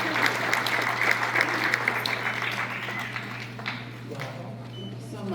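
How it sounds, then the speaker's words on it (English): A crowd applauds steadily for charity recipients walking down onto a stage, dense clapping that holds at a fairly loud level throughout, with a few voices mixed in. "Some applause here as they all come down."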